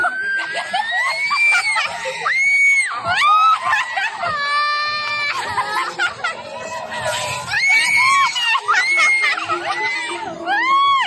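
Riders scream on a swinging Viking ship amusement ride, a crowd of shrill voices rising and falling in repeated bursts with each swing, loud and close, with some laughter and shouting mixed in.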